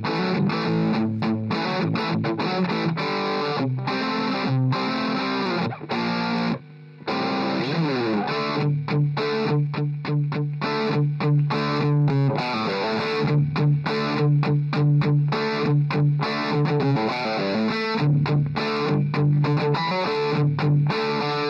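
Heavily distorted electric guitar chugging out a steady rhythm pattern with effects, loud and continuous, with one brief dropout partway through.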